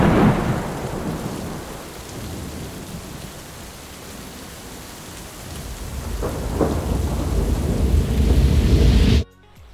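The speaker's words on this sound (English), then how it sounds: "the heavens opened, and we retreated into the van, waiting out the storm, which would rage late into the night" A thunderstorm with heavy rain pours down outside a parked van at night, a dense continuous roar with deep thunder rolling at the start and again near the end before cutting off.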